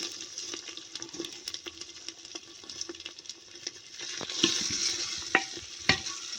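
Onions fry in a pan with ginger, garlic and green chilli paste, making a soft, steady sizzle. Quiet stirring and scraping taps grow a little louder near the end.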